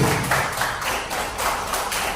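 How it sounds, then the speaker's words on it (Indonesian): A room of people at an Indonesian vocational school (SMK) gathering applauds themselves, a dense, loud wash of clapping lasting a couple of seconds. "Tepuk tangan untuk diri sendiri"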